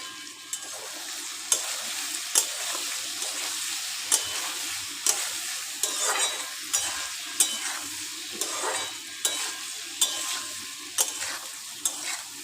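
Taro stolons cooking with prawns and eggplant are stirred in a frying pan: a steady close sizzle with regular scraping spoon strokes about once a second, and no voices.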